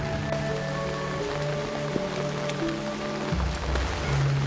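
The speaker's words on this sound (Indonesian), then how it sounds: "kita ingin melanjutkan penelusuran suasana hujan yang ada di desa terpencil dan pedalaman di wilayah Kabupaten Semarang" Steady rain falls in a remote village in Semarang Regency, Central Java, a dense continuous patter on surfaces, with faint tonal hums running underneath.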